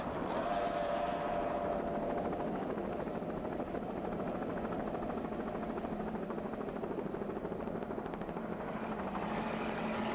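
Three 2.5 EFI outboards drive a C-class racing powerboat, a loud steady engine roar that holds unbroken and near throughout, with no talk over it.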